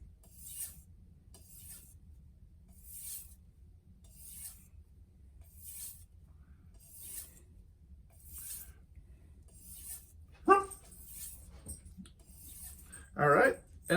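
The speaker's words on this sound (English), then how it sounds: "I'm going to do that by just doing a few edge trailing strokes like this" Knife blade drawn in edge-trailing strokes across a medium grit sharpening stone while deburring, a soft rasping stroke repeating steadily about every second, quiet and close, with a couple of sharper scrapes near the end.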